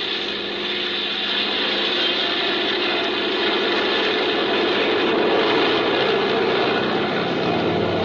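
A propeller airplane engine roars steadily at full power, a loud, broad drone that swells slightly as the aircraft takes off.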